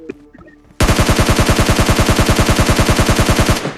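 Rapid automatic gunfire in a shooting video game, a sustained loud burst of evenly spaced shots about three seconds long, cutting in abruptly after a brief quiet stretch of faint game sounds.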